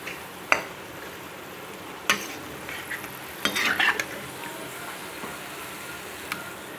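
Pakoras fry in oil in a pan for Punjabi kadhi pakora: a low steady sizzle with a few sharp metal clinks and scrapes of a utensil against the pan.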